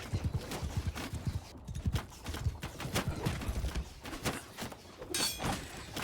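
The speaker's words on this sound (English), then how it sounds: "We can go in with our horse" Horse hooves clip-clopping in the video game Bannerlord, a rapid uneven patter of hoofbeats at moderate distance over a low battle ambience, with a brief brighter rattle near the end.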